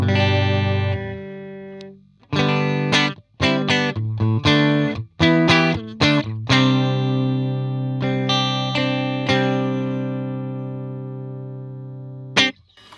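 A Jet JT-300 electric guitar through heavy effects plays chords and bursts of notes with abrupt stops and gaps, distorted and shimmering, loud and close.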